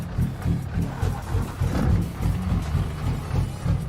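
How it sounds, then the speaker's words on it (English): A heavy truck engine from Euro Truck Simulator with a JC sound mod drones low and steady, pulsing gently in a rumbling idle-to-cruise throb throughout. "That's a good truck sound."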